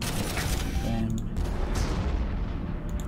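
Cannons in a video game firing heated shot, heavy booming blasts layered into a dense, continuous roar of artillery, loud and close, with a few sharper cracks breaking through.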